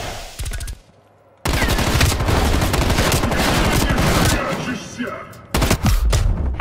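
Gunfire in Call of Duty Black Ops Cold War, with rapid automatic bursts that are loud and sustained for several seconds after a short silence, followed by sharper separate shots near the end; a voice talks briefly at the start.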